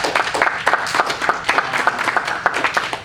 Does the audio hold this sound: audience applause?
yes